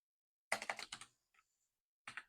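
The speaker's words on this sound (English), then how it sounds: "so we'll type in the type of clay we're going to use" Fingers type on a computer keyboard to enter a soap recipe into an online soap calculator: one quick burst of close, crisp keystrokes, a short pause, then a second brief flurry of keys.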